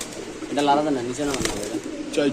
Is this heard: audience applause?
no